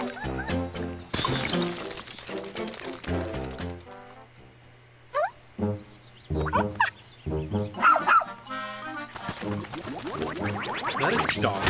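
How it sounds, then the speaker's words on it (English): A dog barks in a Nintendo Direct video game trailer from February 2023, giving several short, sharp barks among music and other game sounds, with occasional voices. "Is that a dog?"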